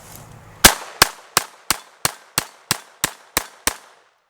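Ten loud, evenly spaced shots from a .22 pistol loaded with Remington ammunition, fired quickly one after another, each crack ending in a short decay, with no talking.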